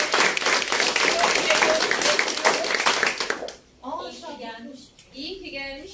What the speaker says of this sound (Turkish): Buradan bizim küçücük Lina'ya bir alkışlar gönderelim